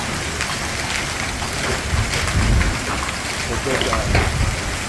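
Heavy hail pelting down outside a hotel in Fremont, Nebraska, a loud dense continuous clatter with low rumbling swells, and a person briefly speaks over it.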